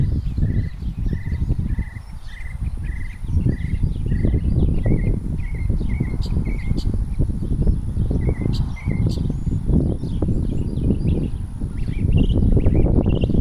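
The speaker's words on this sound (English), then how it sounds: "I don't know if you can hear the birds." Birds chirp in short repeated bursts through a loud, rumbling outdoor background, with brief high calls scattered over the din.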